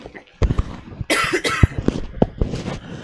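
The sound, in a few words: person coughing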